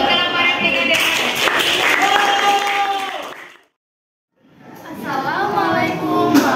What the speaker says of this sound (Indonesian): Beri tepuk tangan untuk kelompok replika dermaga.